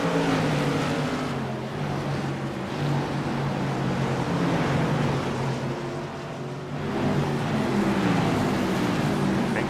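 Race cars roaring around South Boston Speedway during a modified series race, a continuous distant engine drone that swells and fades as the field passes, no talk heard.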